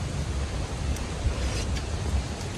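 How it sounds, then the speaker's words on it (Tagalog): Strong outdoor wind buffets the microphone with steady broadband rumble and hiss, close and loud throughout, with no talk. "Grabe hangin."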